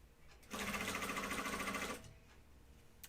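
Sewing machine running a back stitch on a flight suit, a rapid mechanical whirring burst of about one and a half seconds, close and clear, with quiet room sound before and after.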